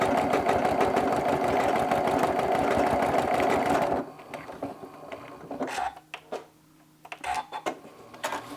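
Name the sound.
sewing machine stitching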